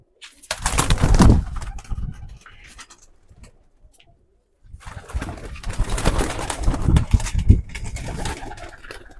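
Pigeons, a prized racing bloodline, coo in two soft, close bursts separated by a brief quiet gap.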